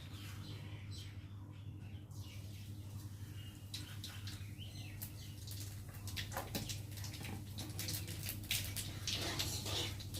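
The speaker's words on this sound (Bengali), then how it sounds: "তেলটা গরম হয়ে গেছে, আর এখন আমি দিয়ে দেবো কালো জিরে ফোড়ন।" Nigella seeds (kalo jeera) hit hot oil and crackle into a busy sizzle that builds and grows louder through the second half, over a constant low electrical hum.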